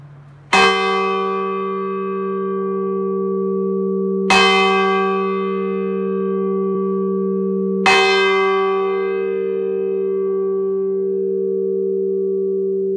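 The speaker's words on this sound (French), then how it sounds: "Nancy, cloche 6." Bell number 6 of the Sacré-Cœur basilica in Nancy struck three times at even intervals, each strike a bright clang followed by a long, steady humming decay, close and loud.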